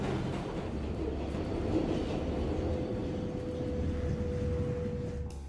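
A metro train sound effect rumbles along steadily, with a low rolling drone and faint rattling carriages at an even level from start to finish, no voices.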